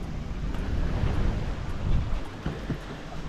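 Wind buffets the microphone at sea aboard a sailing boat crossing the Bay of Biscay, a rough continuous rumble that comes in gusts, with faint water wash beneath it and no voices.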